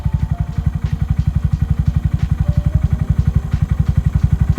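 A Honda Monkey 125 fitted with an aftermarket exhaust idles close by, its single-cylinder engine thumping out a steady, fast, deep pulse with a slightly lumpy, throaty beat and no other sounds.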